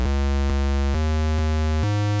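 A pitched-down square wave bass synth from Serum plays a buzzy, hollow, steady tone, stepping through a few held notes in quick succession, loud and alone.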